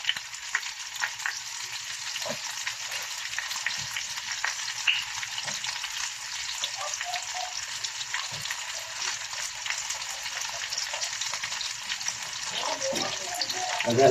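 Pork kaldereta in tomato sauce sizzles and bubbles steadily in a pan as a little water goes in, a continuous hissing fry with soft stirring scrapes throughout, close and fairly loud.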